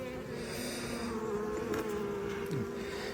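Honeybees buzzing around a hive during nuptial-flight season, a dense continuous drone of many insects close by, with a few individual bees passing nearer.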